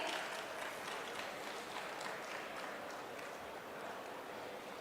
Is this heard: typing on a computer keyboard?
no